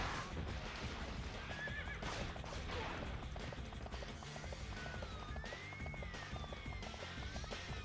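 Horses neigh and whinny repeatedly over a busy rumble of galloping hooves and clashing noise in the video game Dynasty Warriors 3, loud and continuous like a battle scene.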